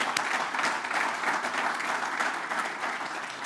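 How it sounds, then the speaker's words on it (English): A round of applause at a baseball coach's introductory news conference, dense sustained clapping from the room that stays steady and fairly loud throughout, tapering only slightly at the end. "Let's give a round of applause for that."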